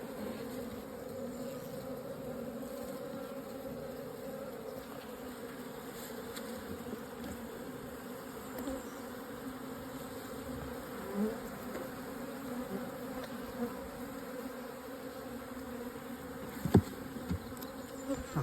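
Honey bees hum steadily around an open hive during an inspection, a dense continuous drone with individual buzzing passes and a few faint clicks, no voices.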